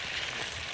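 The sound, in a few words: potatoes frying in a pan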